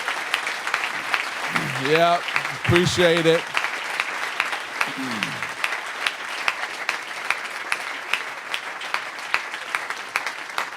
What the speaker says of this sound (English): we got to give them a round of applause for making sure that I was here